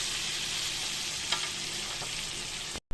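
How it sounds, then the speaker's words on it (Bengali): Potatoes with turmeric frying in a pan, a dense continuous sizzle with a faint stir or two, close and steady, cutting off abruptly near the end. "একদম হালকা করে লাচি লাচি করে আলুটা ভালো করে ভেজে নেব"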